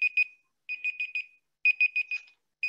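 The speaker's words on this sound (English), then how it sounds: "just let me turn off that timer" A kitchen-style timer alarm goes off during a spoken presentation, sounding as three bursts of rapid, bright electronic beeps, each burst holding about four beeps, separated by short silences, clear and fairly close with no talk over it.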